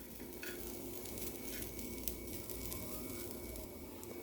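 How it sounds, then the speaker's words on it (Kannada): Grated dry coconut roasts in a pan as a quiet, even crackle, with soft scraping stirs running throughout and no voices. "ಒಣ ಕೊಬ್ಬರಿ ಇದ್ದರೆ ಅದನ್ನು ಇದೇ ಥರ ಹುರ್ಕೊಳ್ಬೇಕು"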